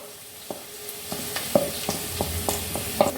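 Onion sizzling in a pan with garam masala for restaurant-style palak paneer, a soft steady fry broken by about ten sharp scrapes and taps of a spoon stirring, no talk.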